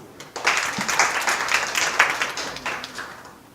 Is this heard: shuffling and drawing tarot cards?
no